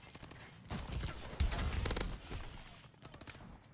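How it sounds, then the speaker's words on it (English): Gunfire in Call of Duty Advanced Warfare Exo Survival mode, with bursts of rapid automatic shots and heavy impacts crackling across several seconds, loud and close, with game effects between the volleys. "who's shooting me in the face?"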